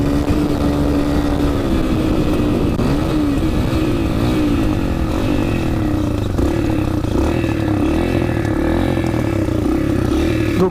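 A Yamaha TTR 125 dirt bike's cold single-cylinder engine runs close by with an uneven, lumpy idle, wavering and pulsing as it struggles to hold a steady tickover.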